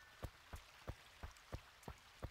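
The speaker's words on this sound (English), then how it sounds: "Good thing it's raining, that saves me a lot of time." Rain falling in the handheld game Animal Crossing: Wild World, a soft steady patter with regular drop-like taps about three times a second, quiet and with no voices.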